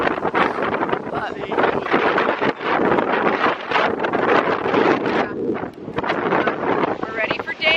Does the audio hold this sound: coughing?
no